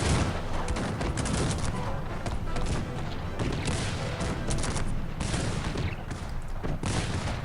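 Dense battlefield gunfire and booming cannon shots from a Cossacks 3 real-time strategy battle, with multi-barrel cannons in action, rolling continuously and loudly for the whole stretch with no pause.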